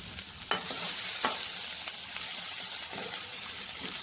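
Finely chopped onion and ginger frying and being stirred in a hot pan, a steady bright sizzle with a few scraping stirs, close and loud, no talking.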